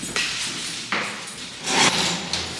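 A door is opened inside an empty new house still awaiting renovation: a few sharp clunks and rattles land at uneven intervals, up close and fairly loud.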